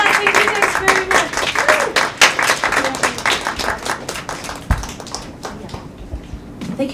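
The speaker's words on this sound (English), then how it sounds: "Another round of applause for Shanna and her team" Audience applause in a salon lounge after a presentation, dense crisp clapping from a crowd, loud at first and then thinning and fading toward the end, with a brief voice and scattered noises over it.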